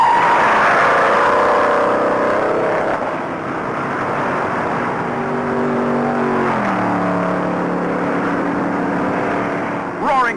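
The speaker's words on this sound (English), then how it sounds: "68 cars play follow the leader at 150 miles an hour." A pack of 68 NASCAR stock cars roars around a banked track at about 150 mph in a sustained, loud engine drone. The pitch slides down as the cars pass, and a voice talks over the noise.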